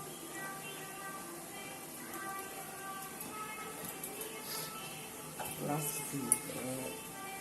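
Beetroot poriyal with curry leaves and coriander stirred in a pan, heard as faint, soft scrapes and clinks over a quiet hum, with a slightly louder clink near the end.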